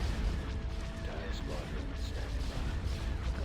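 Warships opening fire in Empire at War: Thrawn's Revenge, a steady rumbling barrage of space-battle weapon blasts and booms, with some talk partly heard over it.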